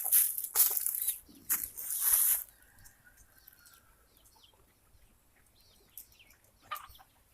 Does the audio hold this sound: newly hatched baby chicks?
yes